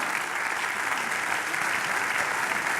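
An audience at a corporate awards evening in the Ain applauds the hosts, filling the clip with steady, dense clapping that sounds close and sustained with no break.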